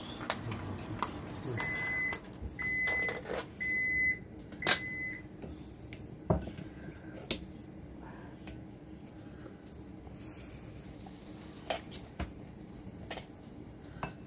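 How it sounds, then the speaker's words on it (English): A series of short electronic beeps sounds in the first few seconds, followed by a low steady hum and scattered clatter, like a microwave oven running and beeping. "I'm going to microwave these a bit"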